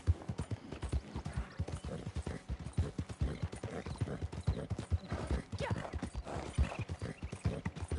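Horse hooves clip-clop at a steady, quick trotting rhythm in the Red Dead Online video game, a continuous loud pattern of hoof strikes over an open-world ambience.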